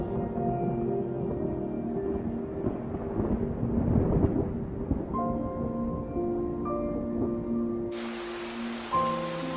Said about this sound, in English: It's the first rain in a long while.